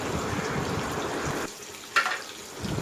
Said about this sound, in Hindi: साथ ही मैं इसमें ऐड करूंगी बस थोड़ा सा पानी